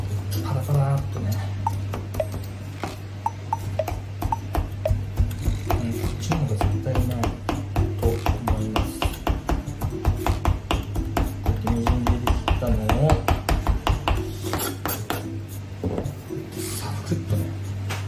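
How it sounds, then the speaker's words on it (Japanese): A kitchen knife finely minces shiso leaves on a cutting board with rapid, close, steady tapping strokes over a low background hum. "こうやってみじん切り細かく切って"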